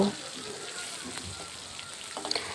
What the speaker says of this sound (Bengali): মাছের এক পিঠ ভাজা হয়ে গেছে উল্টিয়ে দেব